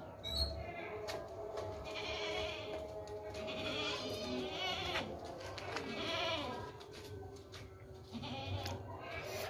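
Goats at a livestock sale bleat repeatedly, several overlapping calls at moderate distance over a noisy outdoor background, with someone talking faintly at times.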